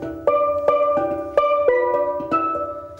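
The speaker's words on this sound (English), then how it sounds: "this is the sound of steel band from Birkby Junior School in Huddersfield" A school steel band from Birkby Junior School in Huddersfield plays bright ringing steel drums, struck in a lilting rhythm of about eight chiming notes that sustain and overlap, close and clear with no talking.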